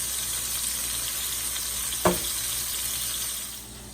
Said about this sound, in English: I'm just going to saute this till it's nice and brown